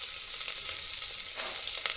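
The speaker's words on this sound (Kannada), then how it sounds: "ಎಣ್ಣೆ ಕಾಯ್ದ ತಕ್ಷಣ ನೋಡಿ, ಒಂದು ಪಲಾವ್ ಎಲೆ, ಸೋಪ್ ಕಾಳು 1 ಸ್ಪೂನು, ಅರ್ಧ ಈರುಳ್ಳಿ ಹಾಕ್ಬಿಟ್ಟು ಚೆನ್ನಾಗಿ ಇದನ್ನು ನಾವು ಫ್ರೈ ಮಾಡ್ಕೊಳ್ಳೋಣ" A bay leaf, fennel seeds and half an onion frying in hot oil for dhonne biryani, giving a steady close hiss and sizzle with faint stirring clicks and no voices.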